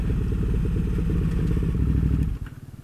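Motorcycle engine running steadily close by on a road in Death Valley, a continuous loud low rumble with clattering texture that drops off sharply near the end.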